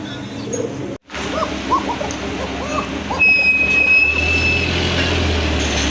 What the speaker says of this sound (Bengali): কবুতর ডাক তো আপনারা অলরেডি শুনেই ফেলেছেন